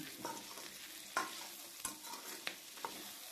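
Tomatoes sizzle softly in a pan while a utensil stirs and scrapes, with several distinct clicks of the spoon against the pan, close and quiet.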